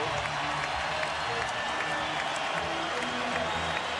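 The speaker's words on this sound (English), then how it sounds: "Crowd on his feet as we approach a minute to go." A basketball arena crowd during an NBA playoff game, San Antonio Spurs at Seattle SuperSonics, roars and applauds steadily as a minute remains, a dense continuous wash of cheering with a commentator talking over it.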